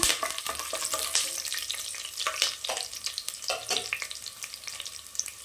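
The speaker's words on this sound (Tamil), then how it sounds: "நம்ம வெங்காயம் சேர்த்துக்கலாம் கருவேப்பிலை தலை சேர்த்துக்கோங்க" Onion and curry leaves fry in a pan for mint rice, giving a steady crackling sizzle broken by sharp spattering pops and stirring scrapes, close and fairly loud, with no talk.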